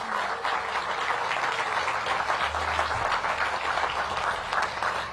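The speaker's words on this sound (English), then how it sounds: "So let's give them a big round of applause." An audience at a building dedication outdoors claps steadily for several seconds, dense and fairly loud, with no voices over it.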